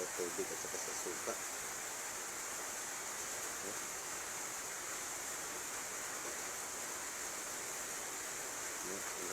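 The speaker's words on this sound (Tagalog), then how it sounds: "Bakit ang lakas bumubula sa tubig at saka sa suka." Matcha powder in water and vinegar fizzes and bubbles with a faint, steady, hissing crackle that runs evenly throughout, close and quiet, with no voices over it.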